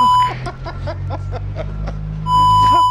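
A steady series of electronic beeps repeats at an even pace over a low engine rumble, like a vehicle backing up nearby.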